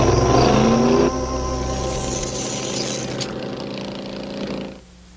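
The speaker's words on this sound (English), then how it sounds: "The car's engine is too loud." Loud car engine in a cartoon, a steady roaring drone with a brief louder surge at the start, running continuously before dropping off near the end.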